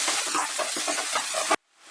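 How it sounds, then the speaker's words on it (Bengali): Chopped onion fries in a pan over medium heat, giving a steady, fairly loud sizzling hiss with faint stirring scrapes before it cuts off abruptly. "পেঁয়াজটাকে ফ্রাই করছি। আমি কিন্তু মিডিয়াম আঁচে রান্নাটা করছি"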